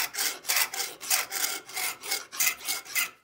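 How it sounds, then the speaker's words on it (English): Steady back-and-forth strokes of a very coarse round-faced file shaping a curve in the wooden stock of a swivel breech rifle kit, about ten even rasping passes, close and alone. "I've got a round-faced, very coarse file, and this matches up pretty good with that first curve in here"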